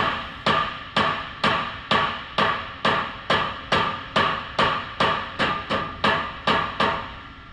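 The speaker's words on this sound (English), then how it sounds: "I'll knock down the buckle with a rubber dead blow hammer" Repeated sharp impacts from a rubber dead blow hammer striking a buckled metal radiator support, about fifteen evenly spaced blows, each with a short ringing decay, close and loud.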